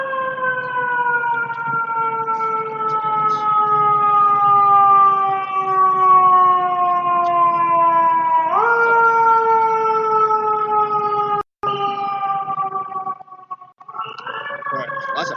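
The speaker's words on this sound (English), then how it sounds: "lots of fire trucks out tonight" Fire truck sirens pass outside at night, a loud steady wail with sliding tones that shifts in pitch as the trucks go by, briefly cut out near the end before another siren rises.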